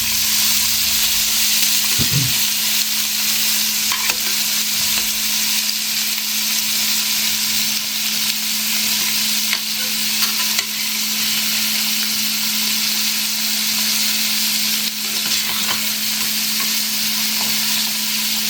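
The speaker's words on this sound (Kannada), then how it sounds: "ನೋಡಿ, ಪನ್ನೀರ್ ಫ್ರೈ ಆಗಿದ್ದು ಕಾಣುತ್ತೆ ನೋಡಿ." Paneer frying in ghee in a home kitchen pan while being stirred: a steady, loud, continuous sizzle with occasional scrapes of the spoon and a constant low hum underneath.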